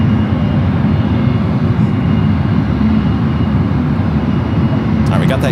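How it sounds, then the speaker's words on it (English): A US Airways Airbus A321 taxis across the runways at San Francisco airport. Its jet engines give a loud, steady low rumble and roar that fills the whole clip. A short rattling noise comes near the end. "we got that U.S. Airways A321 American now crossing over the ones"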